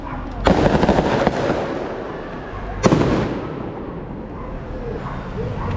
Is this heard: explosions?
yes